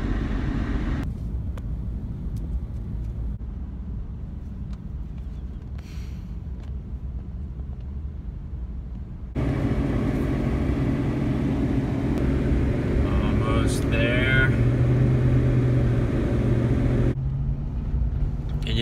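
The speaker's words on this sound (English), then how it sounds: "creeping along the highway" A car creeps along a highway in traffic, heard as a steady low engine and road rumble that cuts abruptly between quieter and louder stretches, with no talking.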